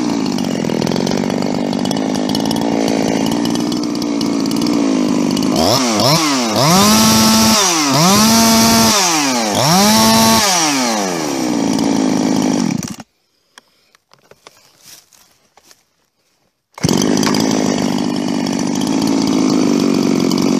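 A Stihl chainsaw with a freshly repaired fuel line roars loud and close, revving in several rising-and-falling bursts from a steady run, then cuts out to near silence for a few seconds before starting up again at full throttle.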